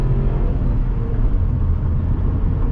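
A 2023 Tata Punch CNG with a BS6 Phase 2 engine pulls hard while driving, a steady, loud low rumble and engine drone filling the cabin with no speech.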